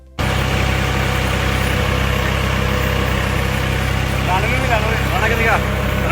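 A tractor engine idles in a Punjab village, giving a steady, close, low rumble throughout. Faint voices can be heard over it near the end.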